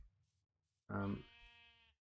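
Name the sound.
sheep bleating in the Minecraft-style video game Razcraft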